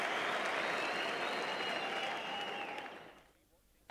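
A big crowd applauds at the MCG on the first day of the Boxing Day cricket Test, a steady, dense wash of clapping that fades away toward the end.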